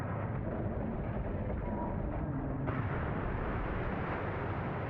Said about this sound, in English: Oh, the tower fell.